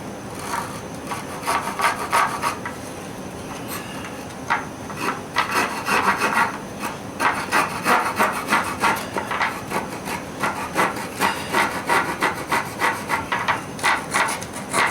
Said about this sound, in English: I start my notches with a saw